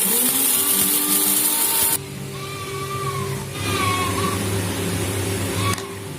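A kitchen mixer grinder whirs loudly while grinding spices into powder, its motor changing pitch as the load shifts over a few seconds of continuous noise.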